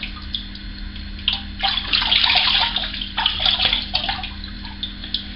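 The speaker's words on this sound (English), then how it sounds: "just rinse the alum off" Tap water running into a sink while alum is rinsed off after a shave, a steady close splashing flow with hand movements breaking the stream in irregular bursts.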